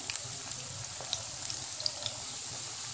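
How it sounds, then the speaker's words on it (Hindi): Spinach pakoras fry in hot oil over a high flame, giving a soft, steady sizzle with scattered small pops and crackles, fairly quiet and continuous. "इसको हम ऐसे उलट पुलट के फ्राई कर लेंगे गोल्डन ब्राउन होने तक"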